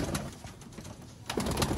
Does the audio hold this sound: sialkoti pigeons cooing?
yes